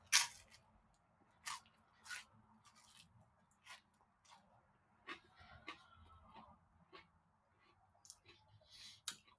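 Crunchy Gino's East of Chicago pizza crust is bitten and chewed up close, giving sharp irregular crackling crunches spaced across a quiet background with no talking.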